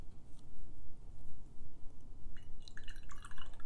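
A watercolour paintbrush is rinsed in a pot of water, giving soft swishing and then a quick run of close, bright clinking and dripping splashes near the end, with no talking.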